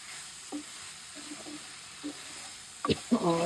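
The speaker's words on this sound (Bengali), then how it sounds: "বেগুন একটু কষিয়ে নিই" Eggplant stirred in a pan of oil, with a faint frying sizzle and a few soft spoon scrapes, then louder clattering stirs near the end; brief voice sounds in the background.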